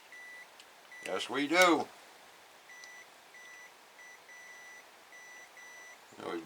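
A multimeter continuity tester gives repeated short, thin electronic beeps in a loose rhythm, quiet and fairly close, while it checks the fuel injector wiring of a 2006 Hummer H3 3.5 five-cylinder. A brief spoken reply comes just before the beeping.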